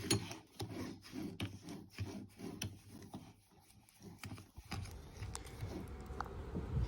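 Coconut oil and sugar body scrub being stirred: a faint, gritty rhythmic scraping and rubbing of sugar granules in a small container, repeated strokes continuing throughout at low volume.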